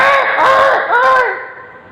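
A man imitates a crow with his voice, producing a few harsh, strained caws in rapid succession, loud and near, fading at the end.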